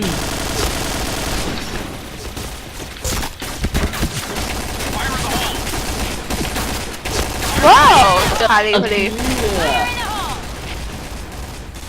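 Rapid gunfire bursts and scattered shots from a shooting video game during a friendly team match, mixed with voices talking and exclaiming excitedly over the action.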